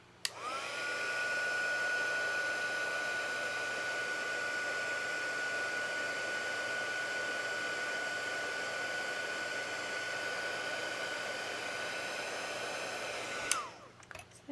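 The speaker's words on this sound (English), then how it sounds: "And then we can go ahead and heat set." An embossing heat tool blows and hums steadily as it melts and sets embossing powder on a Christmas tree card, a continuous close whirring drone that runs for most of the stretch and then cuts off.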